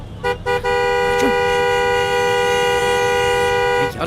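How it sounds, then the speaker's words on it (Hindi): A car horn gives two quick honks, then one long, loud blast held for several seconds. "तू हॉर्न बजा रहा है"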